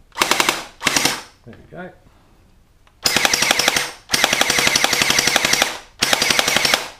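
A gel ball blaster with a Gen 8 gearbox fires in loud, close, rapid full-auto bursts, separated by short gaps and a brief moment of speech.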